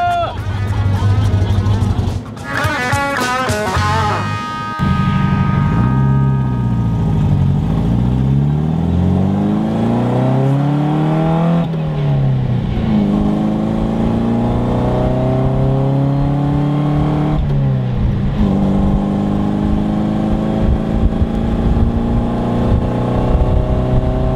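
A Datsun cruising on a highway on a long road trip, a steady engine drone and road roar with rising and falling tones as it accelerates and passes another car, loud and continuous, with voices talking over it.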